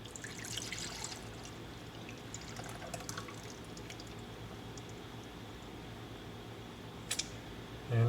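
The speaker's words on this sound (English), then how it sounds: "let's just pour it into this container" Melted ghee is poured from a cone drip filter setup into a container, giving a soft, steady liquid trickle with faint drips, quiet and close.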